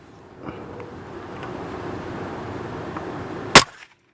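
A single sharp rifle gunshot cracks out near the end, loud and close, after several seconds of quiet outdoor wind and faint rustling.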